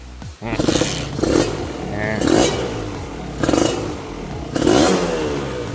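A nearby Kawasaki KR 150 SSE motorcycle engine revs up in four repeated bursts, rising and falling between throttle blips.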